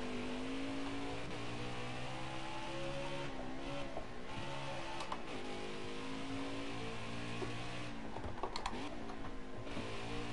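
A loud, continuous NASCAR race car engine roars through a qualifying lap in the NASCAR Heat 4 video game, its pitch rising with acceleration and dipping at shifts and corners.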